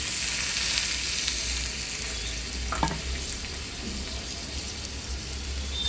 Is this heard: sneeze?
no